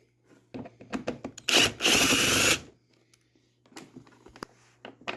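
Two bolts being unscrewed on the fuel pump of a Ski-Doo 900 ACE Turbo REV snowmobile, close ratcheting and scraping clicks with a brief loud burst of whirring in the middle, otherwise quiet.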